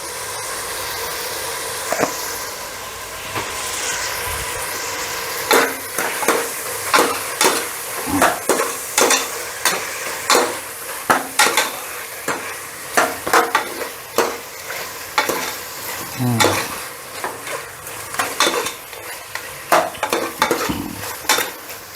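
Mutton cooks with turmeric and salt in a pan over a low flame, giving a steady soft sizzle broken by repeated scraping and clinking of a spoon stirring against the metal.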